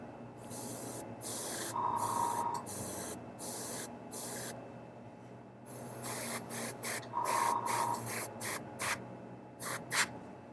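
White spray paint hisses from a can onto a miniature's base in short bursts, loud and close, each spray lasting under a second. Two longer passes sit among quick repeated puffs over a faint background hum, with no talking.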